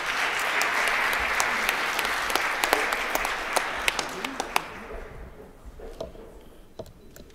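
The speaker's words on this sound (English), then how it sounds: "if I could get everybody to give everyone a round of applause for all the hard work they put in" An audience applauds workshop leaders at a conference feedback session. The applause is dense at first and then thins to scattered single claps before fading out, with some murmuring underneath.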